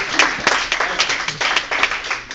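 An audience at a talk on entrepreneurship claps in a brief, uneven burst of applause, a few seconds of close, irregular hand claps.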